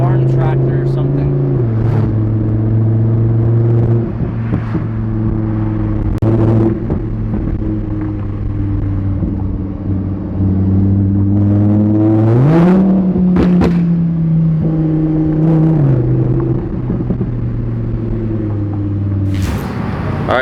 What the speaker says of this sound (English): Let me start up the car and give it a few revs.